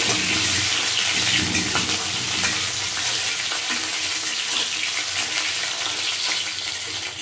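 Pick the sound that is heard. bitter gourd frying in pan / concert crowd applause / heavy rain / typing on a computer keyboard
bitter gourd frying in pan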